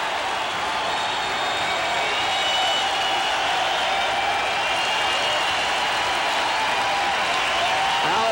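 A Fenway Park crowd at a Boston Red Sox game against the Seattle Mariners roars and cheers in a dense, continuous wall of sound with applause, loud throughout.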